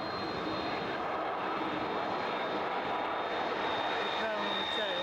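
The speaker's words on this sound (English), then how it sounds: "That's Gulfstream landing." A Royal Jordanian Gulfstream jet lands, its engines a loud, steady broadband roar with a high whine throughout, heard from nearby while people talk over it.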